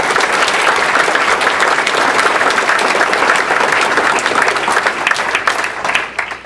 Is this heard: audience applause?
yes